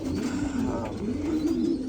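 Racing pigeons coo in a coop, a low, throaty, rolling call repeated in soft pulses, close by against a faint background hum.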